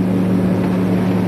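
A loud, close homebuilt engine in a Merkur XR4Ti on the Bonneville Salt Flats starting line drones steadily at a constant pitch, with no voices.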